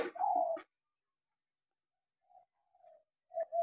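A young songbird kept in a cage gives a short call, then falls silent before a few soft, brief chirps follow at intervals.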